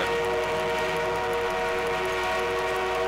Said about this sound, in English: We have an armored train en route.